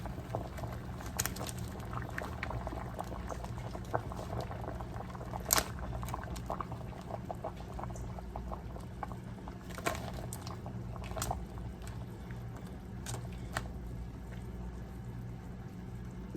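A large pot of water boiling with crab legs for a shrimp, lobster and crab seafood boil, giving a low steady bubbling rumble with scattered faint pops and clicks throughout, quiet and without speech.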